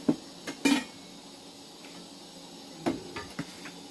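Plates and bowls knocked and set down while food is served, a few sharp ceramic and metal clinks in short clusters with quiet pauses between, close by.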